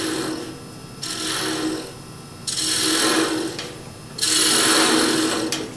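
Pewter collar being hollowed out on a workpiece, heard as a loud, close, rasping scrape in three long sustained passes that grow stronger, separated by brief quieter gaps.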